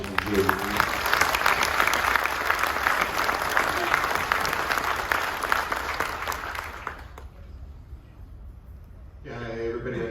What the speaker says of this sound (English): If we can have a round of applause for those who served during Operation Enduring Freedom